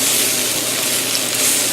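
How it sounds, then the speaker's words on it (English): Peppers and onions sizzle and fry steadily in a hot skillet, a continuous close hiss with no talking. "I'm going to let that saute for about 5 minutes"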